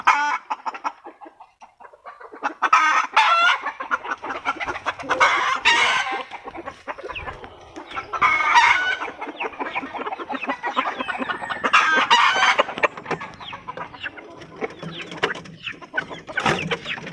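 Red jungle fowl cluck and cackle close by in bursts, with a rooster crowing among them and brief quiet gaps between calls.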